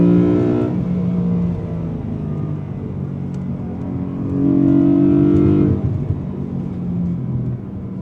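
A BMW E92 M3 with an S54 engine revs while driving, its engine note rising and falling in two strong surges with a throaty rumble between them. No voices can be heard over it.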